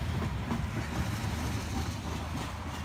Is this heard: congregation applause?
no